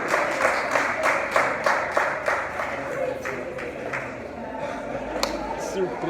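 Church congregation applauding after a communion and deacon ordination service, a steady patter of many hands clapping in a room with a few sharper claps standing out.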